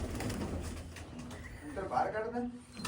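Pigeons, both cocks and hens, coo softly in the background while people talk loudly over them.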